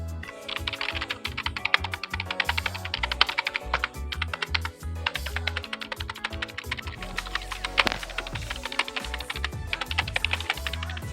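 Fast, continuous typing on an NYK Nemesis K-01 mechanical keyboard after more than a year of use, close to the microphone, with dense clicky keystrokes and occasional heavier thocks from larger keys, steady throughout.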